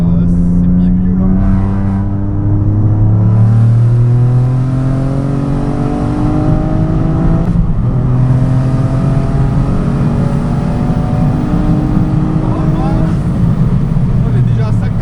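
A stage 3 tuned Ford Fiesta ST (MK8/MK8.5) with a 1.5L EcoBoost three-cylinder making over 300 hp revs hard through several rising gear pulls, a loud, gravelly engine drone close to the listener.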